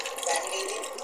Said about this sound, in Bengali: বন্ধুরা জল ঢেলে দিলাম।